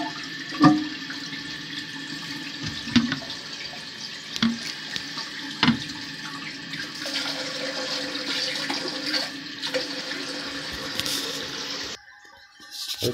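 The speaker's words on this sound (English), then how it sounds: "Okay, everything is flushing fine." A newly installed toilet flushes and refills with a steady rush of water, close and loud, with a few clunks from the tank and handle before it cuts off near the end.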